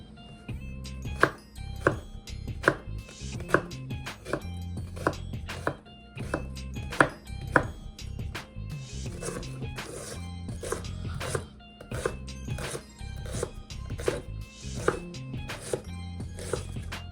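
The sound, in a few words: knife chopping red onion and carrots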